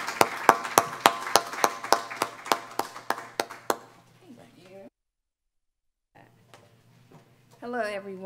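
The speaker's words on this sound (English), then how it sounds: "Can everyone give her a round of applause?" A short run of sharp, evenly spaced claps rings out at a summit event, thinning out and falling silent after a few seconds, followed by a voice starting to speak.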